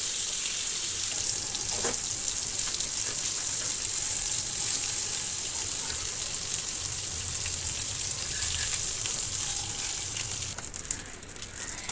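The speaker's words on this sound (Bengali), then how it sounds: "তো এটুকু হালকা করে ভেজে নিচ্ছি" Fish seasoned with salt, chilli powder and turmeric fries lightly in a pan, giving a steady, fairly loud broadband sizzle that runs unbroken and alone, with no voices.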